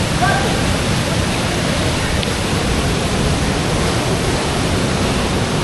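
Loud, steady broadband rush of water at Sauniatu waterfall, close and continuous throughout with no break, completely covering any voices.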